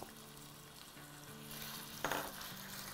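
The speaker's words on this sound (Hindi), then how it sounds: "हम इसमें डायरेक्ट डाल देंगे आधा कप प्याज जो कि आपकी एक दरमियानी या लार्ज के आसपास होगी तो ये चली गई आधा कप प्याज" Chopped onions sizzle in hot oil with chicken keema in a pan, a steady frying hiss with a louder burst as more is stirred in, no talking.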